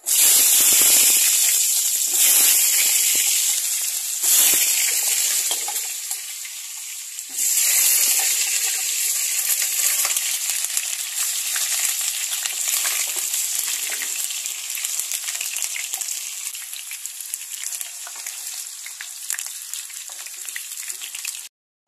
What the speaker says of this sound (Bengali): তেল দিছি, দেখো তেলটা কত গরম হয়ে গেছে আমার। হ্যাঁ, তেল দিছি। এই যে আলুটা ভেজে নেব।